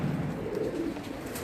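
A female pigeon coos in soft, low, repeated murmuring calls, close by against a faint background hum, with no talking.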